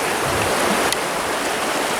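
River water rushes around rocks midstream, a loud, steady broadband roar heard up close with no voices.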